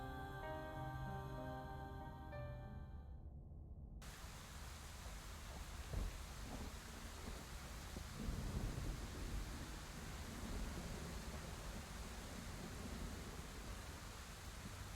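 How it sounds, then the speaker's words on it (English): Steady rain in a video game hisses continuously, with a soft low rumble underneath and no voices. "You're outside, it's raining."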